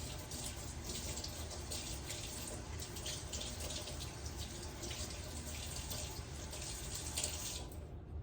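Steady running water from a kitchen sink faucet as hands are washed under it, a continuous close rushing splash with slight shifts as the hands move, no talk.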